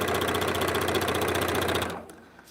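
A sewing machine runs steadily at close range, stitching batik paper string blocks with a fast, even mechanical whir, then stops abruptly near the end and leaves quiet room tone.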